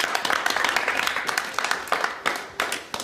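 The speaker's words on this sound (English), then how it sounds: "A round of applause, please." A small class gives a round of applause, a brisk patter of many hand claps with uneven peaks, fairly close, with voices mixed underneath.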